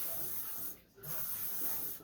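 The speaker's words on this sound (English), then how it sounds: "This just is sunscreen spray." Aerosol sunscreen spray can released in two sustained hissing bursts close by, with a brief pause between them.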